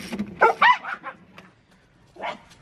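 A dog barks a few sharp, fairly close yaps in quick succession, then falls quiet before one more softer bark, heard alone without talk.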